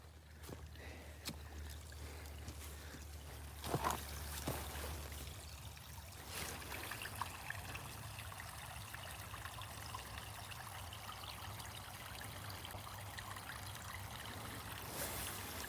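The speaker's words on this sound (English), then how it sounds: "So we got a little bit of a waterfall right here." Steady rushing trickle of water spilling over limestone rocks at a small creek waterfall, continuous and close, with a few brief knocks and clatters along the way.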